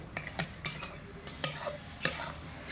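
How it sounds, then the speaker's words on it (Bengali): Potatoes with spices are stirred and fried on a low flame, with a faint sizzle under a series of distinct metal spoon clinks and scrapes against the pan; nobody speaks. "হালকা আঁচে রেখে আলুর সঙ্গে মশলা এক মিনিট মতো অনবরত নাড়াচাড়া করে কষিয়ে নিয়েছি"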